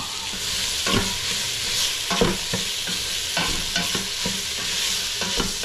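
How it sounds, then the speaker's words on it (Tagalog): Food for pinapaitan, including tripe, sizzles steadily in a hot pan while a utensil scrapes and stirs in irregular clacks, close by, with no talking. "haluin natin mix na lang natin ng konti"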